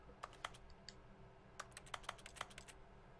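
Rapid, uneven clicking of video game buttons being mashed while playing The Stanley Parable: Ultra Deluxe, like keys tapped on a keyboard, in quick bursts with short pauses over a faint background hum.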